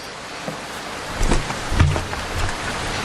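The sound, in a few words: rain falling, audio drama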